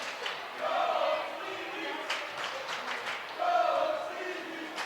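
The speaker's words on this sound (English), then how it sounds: "Crowd chants Coach Levy" A crowd at a boys' varsity high school basketball game chants in rhythmic swells from the stands, moderately distant, with a play-by-play voice talking over it.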